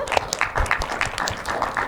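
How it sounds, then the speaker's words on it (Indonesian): Audience at an agricultural productivity dialogue forum in Banten applauding three questioners, a short run of brisk, fairly close claps in a loose rhythm from a modest crowd, moderately loud and steady. "boleh tepuk tangan untuk ketiga penanya kita"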